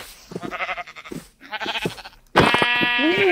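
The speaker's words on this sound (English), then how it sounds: "You got sheep?" Sheep bleat in Minecraft, a few wavering bleats in quick succession followed by a louder, longer bleat, close and clear with no talking over them.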